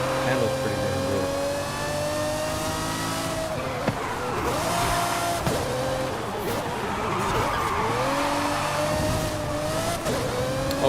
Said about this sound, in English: This car it really isn't that fast in this game, but it handles pretty damn good.